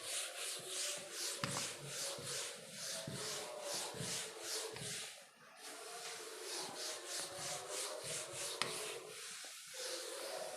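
An eraser rubs writing off a board in a math lesson, a steady rhythmic scrubbing of repeated back-and-forth strokes, close and continuous with a brief pause midway.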